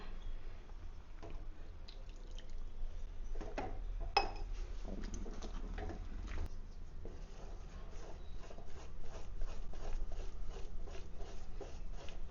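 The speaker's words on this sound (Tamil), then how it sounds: "கொஞ்சம் கொஞ்சமாக நம்ம வந்து தண்ணி ஊற்றி மிக்ஸ் பண்ணுறோம்" Kaara boondi batter being stirred as water is added a little at a time, giving soft wet patters, drips and small clinks of a utensil against the bowl, steady and close, with no talk.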